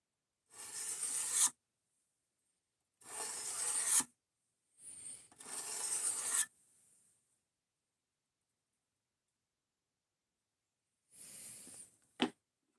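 A blade is sharpened to grind off the burr, with four separate rasping strokes in quick succession, a pause, then one more stroke and a sharp click, close and isolated in near silence.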